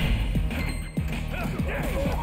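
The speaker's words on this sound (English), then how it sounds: "Oh, okay, that was a good kick." In the Street Fighter 6 video game, a kick lands with a sharp, punchy smack, followed by more rapid hit impacts over steady game background sound.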